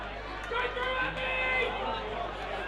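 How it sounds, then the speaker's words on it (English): Spectators at the 2023 BL&GFA football grand final between Nuriootpa Rovers and South Gawler create a steady roar of crowd noise and babble that swells slightly in the middle, with a voice speaking over it. "Listen to the crowd now."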